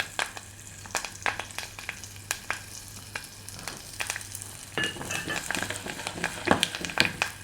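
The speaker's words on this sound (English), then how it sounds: "I take my curry leaves and it goes straight in. It begins to splutter, and then goes in the onion." Curry leaves and onion frying in hot coconut oil for a Kerala coconut roast chicken curry, with a steady sizzle broken by repeated sharp spluttering pops, close and fairly loud, with no one speaking.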